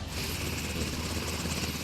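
Coast Guard helicopter overhead during gunnery training, a loud continuous rotor thrum and engine whine that stays steady and close throughout, with no speech.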